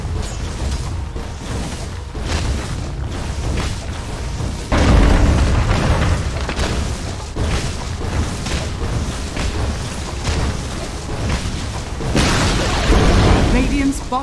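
Dota 2 match with a bottom tower being destroyed: dense, continuous game audio with repeated heavy booms and bursts, loud throughout, with a voice speaking over it.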